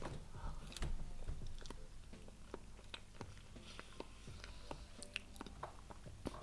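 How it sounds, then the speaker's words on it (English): Close, crunchy chewing and biting while eating, with irregular soft crunches and mouth sounds over a low background hum. "If you like the sound of chewing."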